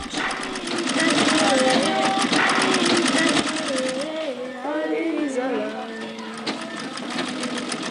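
Several sewing machines whir steadily, operated by a group of women working their way out of poverty, while a voice talks loudly over the mechanical hum and a melodic tone wavers beneath.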